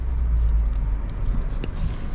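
A modified 2022 Toyota Tundra TRD Off-Road on 35-inch tires climbs up onto a curb, its engine a loud, close, low rumble with a few light knocks, and no one speaking.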